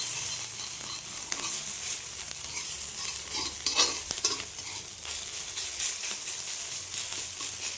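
Black cumin fries in a small amount of oil in a wok, giving a steady close sizzle with occasional stirring scrapes and crackles and no talking.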